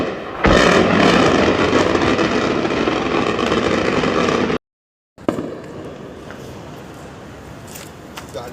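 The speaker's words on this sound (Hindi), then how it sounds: "उधर इराक में अमेरिका का बेस जो है वहां धमाकों की" Explosions ring out at a US base in Iraq, a loud sustained roar of blasts and rumbling, then a sudden cut to silence, then quieter distant noise with scattered pops.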